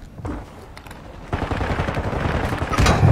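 Rapid gunfire in a battle-royale style video game, a dense crackle of shots that builds to a louder burst near the end, with no voices.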